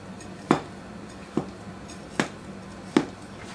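A spatula cuts into a baked copycat Cinnabon cinnamon cake, giving four sharp, close knocks against the pan at steady intervals over a quiet room.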